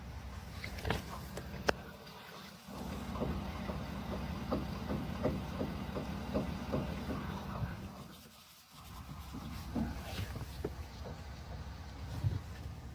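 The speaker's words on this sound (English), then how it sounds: "Something's loose in my front end. When I hit a bump, it sounds like the steering column's going doo-doo-doo-doo-doo-doo." Loose front end of a Ford pickup truck rattles over bumps, a rapid run of repetitive knocks under steady road and cabin rumble, fairly close and continuous with a brief dip.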